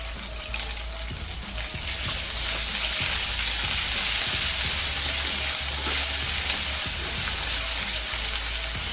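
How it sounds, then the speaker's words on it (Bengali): Ginger paste sautéing in hot oil with mustard seeds and dried red chillies for a sour snakehead fish curry, giving a steady, loud, close sizzle that runs unbroken throughout with faint scraping of a spoon. "আদাটাকে একটু কষিয়ে নিতে হবে।"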